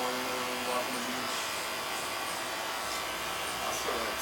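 Hair clippers fitted with a metal number two guard buzz steadily through a haircut, a constant close electric hum running unbroken underneath.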